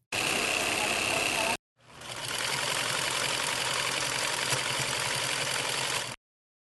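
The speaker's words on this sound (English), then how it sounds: "This is one area where the atmospheric noise is percussive, rhythmic, and awesome." Rhythmic industrial machinery noise with a steady engine-like drone and pulsing, percussive beat, loud and dense, broken by a short pause before resuming for several seconds.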